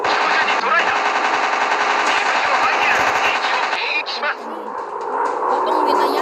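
Constant loud machine gun fire from a World War II fighter plane video game, a dense unbroken rattle that thins out briefly near the end before surging again.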